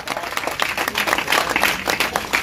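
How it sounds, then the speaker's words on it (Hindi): Audience at an Anjuman Taraqqi Urdu Hind function in Asansol applauds a guest, dense steady clapping from many hands filling the short stretch at close range. "तालियों की आवाज जनाब अलहाज अब्दुल जलील साहब की खिदमत में पेश"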